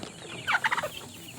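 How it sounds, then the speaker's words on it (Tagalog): Large turkey on a farm letting out a quick rattling gobble, a burst of several rapid pulses lasting under half a second, close and clear over a quiet outdoor background. "Ayan naman yung pabo na malaki"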